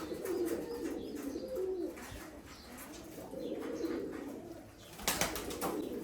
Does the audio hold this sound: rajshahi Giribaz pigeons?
yes